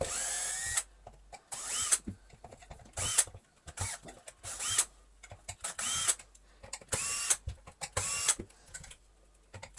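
A cordless power screwdriver backs screws out of the housing of a Dyson V11 Absolute+ stick vacuum. It makes repeated short whirring bursts with pauses between them, and a faint clicking mechanism is heard in the gaps.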